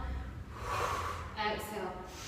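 Slow breathing during a flow yoga practice: a drawn-out breath in followed by a breath out, close and breathy, with a soft snort-like edge.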